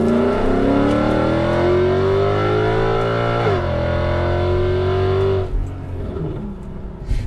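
A Mercedes-AMG E63 with a big naturally aspirated V8 and part of its exhaust removed revs up loudly and close, the engine tone climbing steadily, dipping briefly at a shift, rising again, then dropping off.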